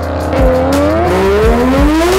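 A three-rotor engine in a Mazda FD RX-7 revs hard nearby, pitch climbing and dropping across several throttle blips with a raspy, buzzing exhaust tone.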